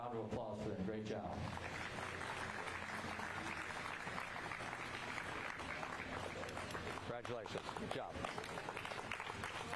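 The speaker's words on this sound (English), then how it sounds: "one more round of applause for them" Audience applause at the Knox County Fair beef show continues under someone speaking over a PA, with a cattle show ring atmosphere and scattered clapping throughout.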